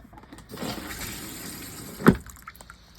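An RV toilet flushes once, a brief loud rush of water near the end after a quieter watery fill beforehand, heard close with no talking.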